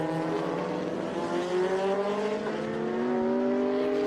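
Vintage race cars at the Austin SpeedTour circuit, including a Lola T598, roar loudly as they come straight toward the listener uphill, engines droning and rising in pitch with no talk over them.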